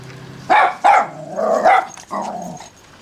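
A dog on a farm barks twice in quick, loud, close succession, then lets out a longer grumbling, growly bark and a final shorter one, with no talking.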